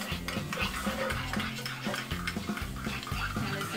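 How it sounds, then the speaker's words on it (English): A utensil mixes homemade Big Mac sauce in a bowl, giving close rhythmic scraping and stirring strokes with faint clinks, no talking. "Alright, so now I'm just gonna mix it up."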